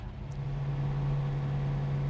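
A 1967 Ford Mustang GT K Code V8 idles steadily, a constant low engine drone with a strong even hum, heard close and alone.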